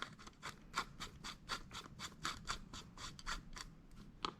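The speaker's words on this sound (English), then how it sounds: "we're just going to screw this flexible arm right into here and then screw it into the base of the Spartan light right there" A flexible arm being screwed into the base of a Wagan Spartan 2500 LED worklight makes a rapid series of close, dry scraping and clicking threads, roughly evenly spaced, with no voices.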